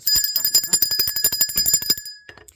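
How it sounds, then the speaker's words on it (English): A bicycle bell rings rapidly over and over for about two seconds, bright and close, then stops. "I'm going to ring the bell for that."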